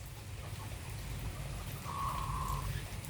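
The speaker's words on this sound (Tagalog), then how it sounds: "Umuulan." Faint, steady rain patters in a continuous wash, with a soft brief tone rising partway through. No voices.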